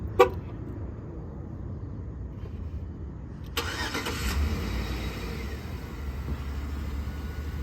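After a short quiet stretch, a 2011 Chevrolet Tahoe LTZ engine remote-starts with a brief crank and settles into a smooth, steady idle at moderate distance.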